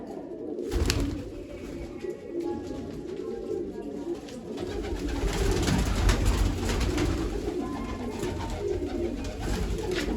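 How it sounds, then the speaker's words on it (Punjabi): Repeated low, throaty cooing of pigeons nearby, with faint rustling and shuffling in the background. "ਤੀਜੀ ਕਬੂਤਰੀ"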